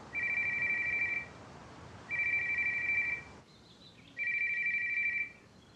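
A telephone rings three times, each a trilling electronic burst of about a second with pauses between, fairly quiet and alone.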